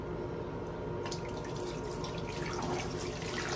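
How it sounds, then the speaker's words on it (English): Tap water runs steadily through hose lines into two large aquarium tanks during a water change, a continuous close rush and trickle with bubbling that grows slightly brighter partway through. "So water on, you see the bubbles."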